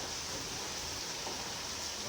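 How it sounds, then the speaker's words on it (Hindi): Heavy rain in Karachi, a dense, steady hiss of downpour with no breaks, moderately quiet and even across the whole short stretch. "बारिश इतनी ज़बरदस्त हो रही है ना पिछले 2 घंटों से"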